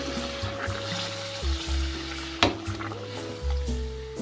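Spices are stirred into chicken karahi in a pan, giving a soft scraping and sizzle with a sharp clack of the spoon on the pan partway through, under a steady background hum.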